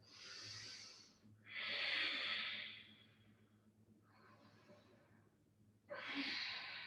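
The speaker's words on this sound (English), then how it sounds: "Let's take 2 deep breaths here." Deep, slow breaths drawn and released during a vinyasa yoga flow, close and fairly loud, with four distinct breath sounds of rising and falling airflow separated by quieter pauses.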